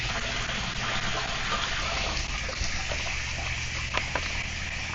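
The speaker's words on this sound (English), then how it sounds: "Water's flowing strong." Water gushes steadily into a 250-gallon homestead storage tank, a continuous, close, rushing flow.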